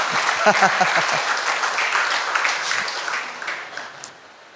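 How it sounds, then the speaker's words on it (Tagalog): A church congregation applauding, a full crowd of clapping that gradually fades, with a voice briefly heard near the start. "Pumalakpak nga ang mga masaya kahit lampas na ng alas 12."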